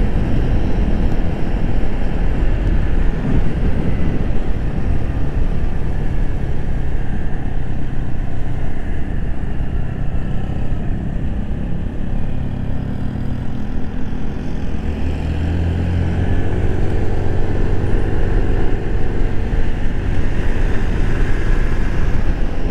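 A Honda Navi scooter rides along a road in Michigan, its engine drone and rushing wind forming a loud, steady roar close by that continues without a break.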